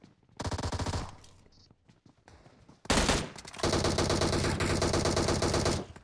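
Loud bursts of automatic gunfire in the mobile battle royale game PUBG Mobile: one short burst, a quieter lull, then a long sustained volley of rapid shots close by.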